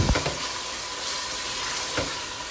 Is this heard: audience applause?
no